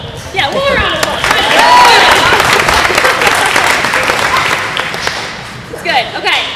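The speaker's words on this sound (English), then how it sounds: "one more round of applause." Alumni weekend event audience applauding steadily for several seconds, dense clapping with some cheering and crowd murmur, swelling briefly near the end.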